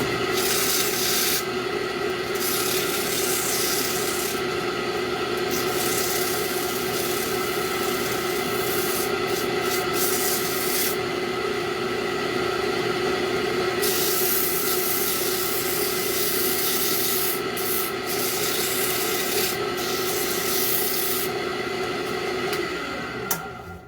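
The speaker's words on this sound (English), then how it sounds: "Put a little sand on here." Sandpaper is held against a piece of wood spinning on a lathe, producing a steady, loud, continuous rubbing hiss that carries on without a break over the hum of the machine.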